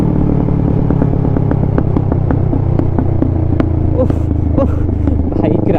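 Kawasaki Ninja 650 fitted with a full-system Mivv exhaust, idling with a deep rumble and repeatedly crackling and popping in sharp, irregular bursts close by and loud.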